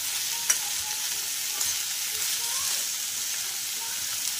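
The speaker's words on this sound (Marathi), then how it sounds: "तर अशा प्रकारे आपण हे वाफवून घेणार आहोत तेलामध्ये।" Bitter gourd pieces cook in oil in a pan with a continuous, even hiss and crackle, close and moderately loud, with a couple of faint clicks and no speech.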